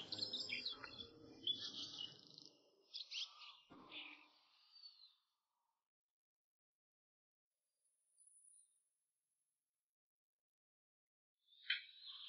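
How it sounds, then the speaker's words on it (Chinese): Many birds chirp and twitter in the morning at a remote fishing-island spot, a dense burst of overlapping calls for several seconds, then quiet with a couple of faint, scattered chirps later. "每天早上起来，好多鸟在这里叽叽喳喳的叫。"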